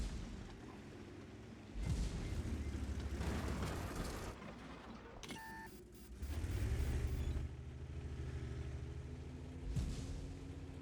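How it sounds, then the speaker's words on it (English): A HEAT round from an SU-130PM tank destroyer explodes in a tank video game: low booming blasts and rumbling impacts roll through a steady engine drone, with a short sharp burst midway. "There's the heat round from the SU-1 30 PM. You can see the little heat explosion."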